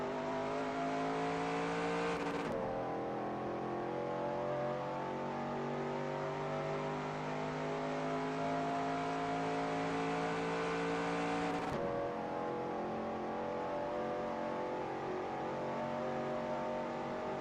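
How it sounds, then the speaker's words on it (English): A car engine revs hard near redline in a record attempt, a loud sustained whine that climbs in pitch, drops sharply at two gear changes, then climbs again, with no talk over it. "I'm probably going to be hitting the point where I'm on the red line, where the engine's over-revving"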